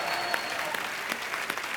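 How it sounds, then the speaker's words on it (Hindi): A studio audience at a Hindi comedy talk show claps steadily in a dense, even burst of applause, close and alone, lasting about two seconds. "प्लीज आप लोग तालियां बजा के इनका हौसला बढ़ाइए"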